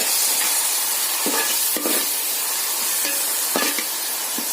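Tomatoes sautéing in a pan for rava upma, a dense continuous sizzle and hiss with several distinct stirring scrapes of a spoon against the pan, close and steady throughout.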